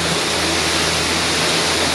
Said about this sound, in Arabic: شلال افنسو